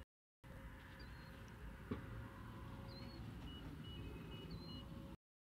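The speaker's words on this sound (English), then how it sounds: "If you hear cars outside," Cars passing outdoors on a nearby road, a steady low rumble of traffic with faint birdsong above it and one brief knock, no talking.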